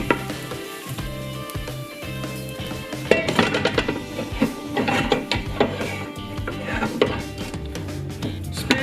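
A utensil scrapes and clatters against a pan as sticky rice is moved into a tray, with clinking metal and light sizzling close by.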